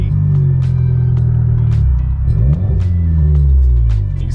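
Volkswagen Golf R with a custom muffler delete exhaust revving under load, a loud, bassy, close-up engine drone that rises and falls, with a rumbling exhaust note and intermittent sharp pops.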